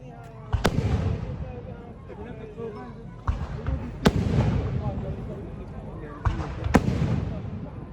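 Fireworks burst at a village fair in Italy, three sharp loud cracks spaced a few seconds apart, each trailing into crackle and rumble, with people talking throughout.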